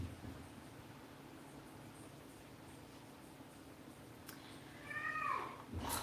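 A cat meows insistently in the background of a quiet indoor room, a couple of rising, wavering cries near the end over a faint steady hiss, with no talking.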